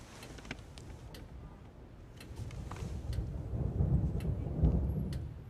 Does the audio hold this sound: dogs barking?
no